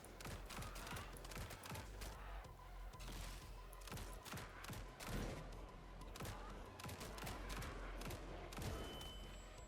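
Rapid gunfire in the indie shooter Grind Survivors, dense bursts of shots and thuds cracking out almost continuously at close range against a heavy, booming backdrop.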